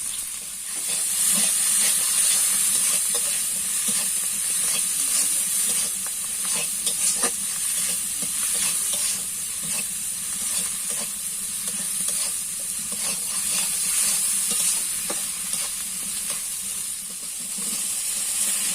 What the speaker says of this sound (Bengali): দিয়ে চিংড়ি মাছটা মা ভালোভাবে ভেজে নিতে।